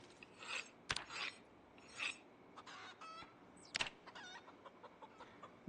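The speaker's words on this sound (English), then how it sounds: "Now, the birds are making stressed noises," Stressed chickens in the Project Zomboid video game let out a series of agitated clucks and raspy squawks in irregular bursts, fairly faint, with no talking.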